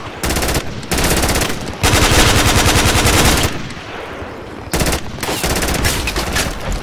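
Sustained machine-gun bursts from the Project Reality military video game, loud and close, firing in long rapid strings separated by brief pauses.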